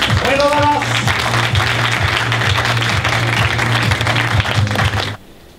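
A crowd applauds at a CS:GO tournament final in a dense burst of clapping that carries on steadily, then cuts off abruptly near the end.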